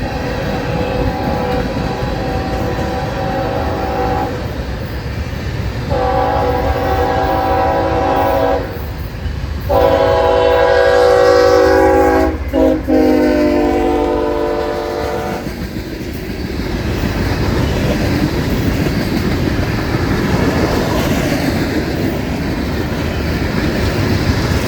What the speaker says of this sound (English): We got a meet, train meet in Folkston, Georgia.